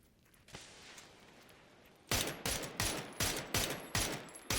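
Quiet hiss, then a sudden burst of rapid gunfire in repeated loud volleys, close and sharp, about six bursts in quick succession, in the video game PUBG.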